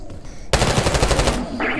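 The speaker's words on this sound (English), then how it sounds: "You hearing gunfire?" Sudden burst of rapid automatic gunfire in the Call of Duty: Black Ops campaign, coming from lower floors, starting after a quiet moment and rattling continuously and loud for over a second.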